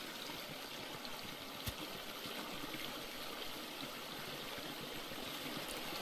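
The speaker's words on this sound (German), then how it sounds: "Schicker Wasserfall." Steady rushing waterfall in the video game Haven Park, a continuous broadband wash of falling water that stays even and fairly loud throughout, with no talking.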